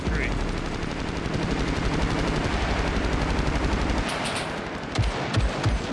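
Rapid automatic gunfire from a shooter video game plays steadily throughout, dense and fairly loud, with a few sharper single shots near the end.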